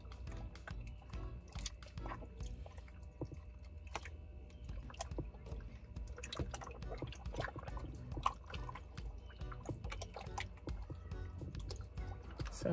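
Water runs and drips over raw meat being rinsed for canning at a park campsite, faint and close, with soft splashes and squishy handling sounds and no talking.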